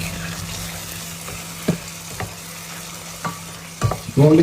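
Chicken roast in butter with scattered coriander leaves being mixed in a pan, a low steady sizzle with occasional spoon scrapes and knocks, ending in a louder clatter, no speech.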